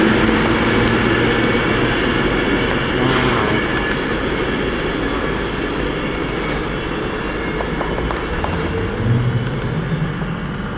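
A Pendolino express train roars past close by in a loud, continuous rush of wheel and motor noise, swelling and shifting pitch as it goes, with no voices heard.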